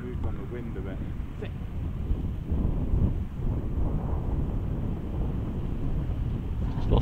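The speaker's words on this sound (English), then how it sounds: "it's a bit windy" Gusty wind on a golf course buffets the microphone, a steady low roaring rumble that swells slightly in the middle and persists throughout.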